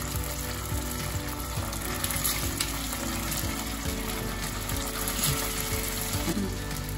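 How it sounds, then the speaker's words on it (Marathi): Poha potato tikkis shallow frying in a little hot oil, a dense, steady sizzle and crackle that stays loud and close throughout, with no talk. "आता आपल्याला थोड्याशा तेलामध्ये शॅलो फ्राय करून घ्यायचे."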